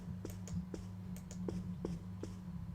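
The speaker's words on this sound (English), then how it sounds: "Those definitely sound like scissors" Scissors snipping in the horror video game NightCry, a steady series of faint, evenly spaced sharp snips repeating about every third of a second over a low background drone.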